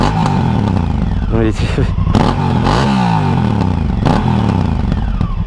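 A Honda Africa Twin motorcycle with its stock exhaust revs and rumbles nearby, engine pitch rising and falling as it passes, while someone speaks French over it.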